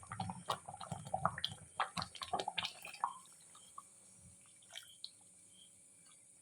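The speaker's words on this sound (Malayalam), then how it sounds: "അപ്പം ഇനി 2-ാം പാൽ ഒഴിക്കാൻ പോകും" The second milk is poured into a pot of broken-wheat payasam sweetened with jaggery, making a few seconds of close splashing and gurgling that fades to sparse drips and near silence.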